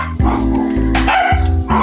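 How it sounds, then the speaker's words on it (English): Puppies at playtime bark and yip up close in short bursts, loud and close, with whimpering cries between barks and no talk over them. "Dogs are playing, puppies are having playtime."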